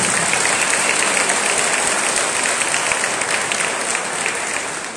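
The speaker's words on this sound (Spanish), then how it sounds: "¡Fuerte el aplauso!" Dense, steady crowd applause fills a municipal swearing-in ceremony in Tepeojuma as a Partido del Trabajo local deputy is introduced, loud and continuous throughout with no break.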